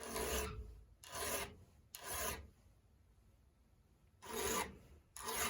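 A hand file rasps across the teeth of a Jonsered 355T chainsaw chain in short, even strokes, five close, crisp scraping passes separated by brief quiet gaps.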